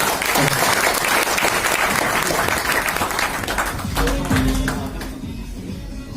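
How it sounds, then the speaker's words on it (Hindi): A seminar audience for an RCM business event in Hansi breaks into vigorous clapping, loud and dense at first, then thinning and tapering as a voice briefly speaks over it. "एक बार जोरदार ताली बजा दीजिए इनके लिए सर"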